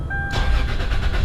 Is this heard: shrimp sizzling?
no